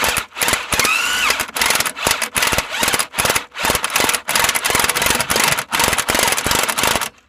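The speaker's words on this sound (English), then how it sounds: "take the grinder to them and suck them up a little bit" An angle grinder cuts down Jeep Cherokee XJ U-bolts, loud and close, in rapid repeated bursts of whine and grinding broken by short gaps.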